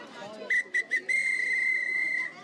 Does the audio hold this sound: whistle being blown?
yes